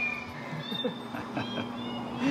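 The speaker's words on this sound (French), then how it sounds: "mix entre des vrais miaulements et des miaulements créés numériquement" Cat meows, some real and some digitally made, play over a busy, noisy shop with steady background hum and chatter, the calls soft and recurring.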